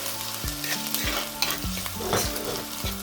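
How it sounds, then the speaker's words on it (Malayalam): Ginger, garlic and green chili being sautéed in a pan for gooseberry pickle, with a steady oil sizzle and repeated scraping strokes of a stirring spoon close by. "നമ്മുടെ ഇഞ്ചിയും വെളുത്തുള്ളിയും പച്ചമുളക് കൂടി ഇടുക നന്നായിട്ടൊന്ന് വഴറ്റിയേ"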